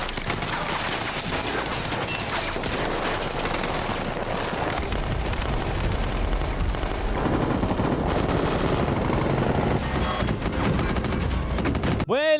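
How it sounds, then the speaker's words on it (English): Relentless rapid gunfire, machine-gun bursts and shots overlapping continuously in a dense, loud barrage, with voices faintly mixed in. "you're going to be subjected to the constant sound of gunfire"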